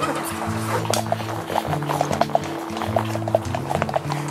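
Rhythmic clip-clop of horse hooves plodding steadily at close range during a trail ride, with creaking tack and a faint murmur of ambient noise underneath.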